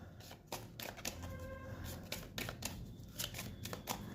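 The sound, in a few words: tarot cards being shuffled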